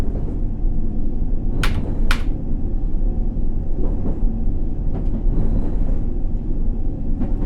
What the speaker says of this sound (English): Okay, the next trains are here.